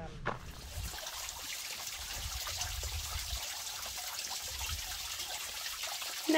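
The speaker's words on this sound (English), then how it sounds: "not a big waterfall," A small waterfall trickling over rocks on a hillside trail in the Catalina Foothills, a steady close splashing wash that holds level throughout, with no talking.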